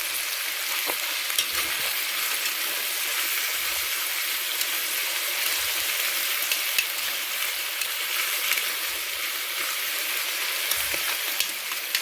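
Chicken breasts and shallots fry in a pan with a constant crackling sizzle, broken by occasional soft knocks of stirring, all close up and with no one speaking.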